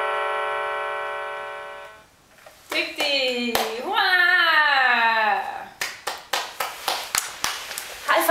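Sharp hand claps scattered through the last few seconds, following a stretch of children's speech and music-like tones in a home setting.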